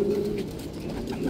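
A racing pigeon coos softly at the loft during a derby finish in Bauang, La Union, giving a low, steady, throaty murmur heard close and alone.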